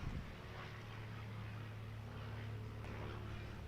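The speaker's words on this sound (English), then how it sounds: "Very loud aeroplane flies overhead." A loud aeroplane passes overhead at a women's one-day cricket match between Surrey and Lancashire, a steady broad roar with a low droning hum that holds throughout.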